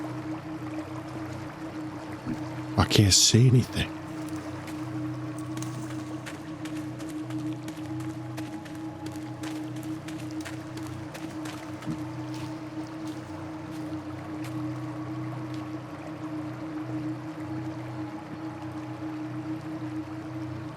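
Steady flowing river water in a dark game scene, a continuous low rushing murmur with a brief louder burst early on and a voice speaking once.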